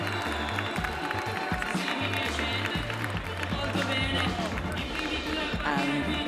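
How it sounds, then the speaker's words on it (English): Crowd noise at an urban wall bouldering competition, a dense continuous roar of cheering and clapping layered under loud rhythmic music, with talk from the venue mixed in throughout. "So the crowd is cheering."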